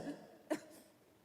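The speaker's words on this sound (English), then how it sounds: "Now I think it's time for a 5-year-old with a cough to get to bed." A five-year-old child coughs once, a short sharp burst in a quiet room, with a softer throat sound just before it.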